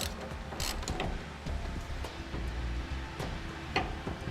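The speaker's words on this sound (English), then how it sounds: "We'll use a 10mm socket." A 10mm socket ratchet backs out screws during a fifth wheel trailer hitch install on a 2010 Chevrolet Silverado, giving close, busy mechanical clicking with a few sharper ticks, no voices.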